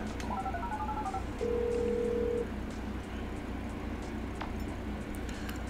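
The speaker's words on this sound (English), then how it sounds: "Let's go ahead and open up the phone and call over our squad" Phone keypad tones beep as a number is dialed to call a squad in the video game GTA 5: a quick run of short tones, then one longer steady tone over soft ambient hiss, no talk.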